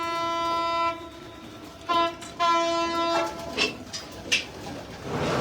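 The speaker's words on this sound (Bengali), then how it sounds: "একটা ট্রেন যায় আমার এখান দিয়ে প্রতিদিন, মধুমতি এক্সপ্রেস, এত হরেন মারে" The Madhumati Express passes nearby, sounding several loud, long horn blasts followed by rumbling and clattering, with pigeons cooing and fluttering close by.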